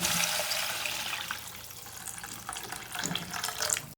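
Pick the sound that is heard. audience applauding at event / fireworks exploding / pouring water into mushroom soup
pouring water into mushroom soup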